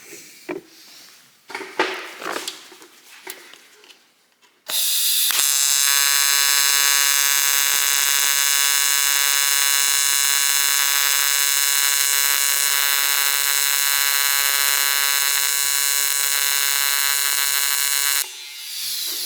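AC TIG welding arc from an ARCCAPTAIN 200P AC/DC welder with frequency and balance adjusted: after brief handling clatter, a loud, close, steady harsh buzz holds for about thirteen seconds, then cuts off abruptly.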